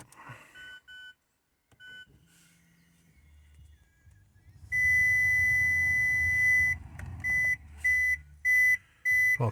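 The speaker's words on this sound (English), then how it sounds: "Parking sensors aren't happy because they're disconnected." Parking sensor warning beeps from a 2016 Mazda 2 with its sensors disconnected: a string of loud, steady electronic tones, one long sustained beep and then several short repeated pulses, alone after faint earlier bleeps.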